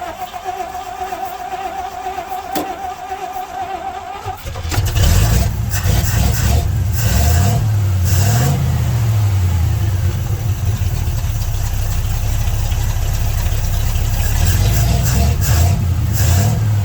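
A 1967 Chevrolet C50 truck back in service after nine years of rest: a quiet stretch with faint hum, then the engine catches and settles into a loud, close idle with a heavy rumble and slight rises in revs.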